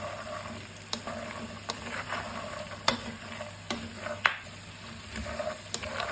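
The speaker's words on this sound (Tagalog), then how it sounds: "ilagay ko na yung bawang. Para maging crunchy din yung bawang." Garlic fries in a pan with peanuts for adobong mani, a steady close sizzle broken by sharp clicks and scrapes of stirring.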